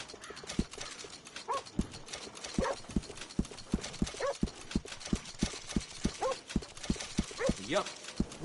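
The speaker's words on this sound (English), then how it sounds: "Little fine grooming always sets off a horse." Horse hooves clip-clopping steadily on hard ground in Red Dead Redemption 2 while the horse is groomed, with occasional soft whinnies and snorts; someone talks over the sounds.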